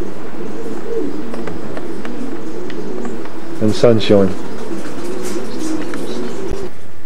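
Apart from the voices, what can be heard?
racing pigeons cooing in loft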